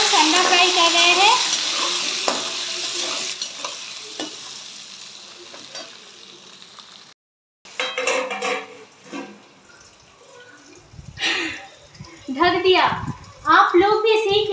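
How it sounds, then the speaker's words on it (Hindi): Peeled boiled eggs fry in oil, a soft crackling sizzle with light stirring scrapes, heard beneath continuous talking that grows louder and more broken in the second half after a brief silence. "तो देखिए फ्रेंड्स अंडा फ्राई कर रहे हैं।"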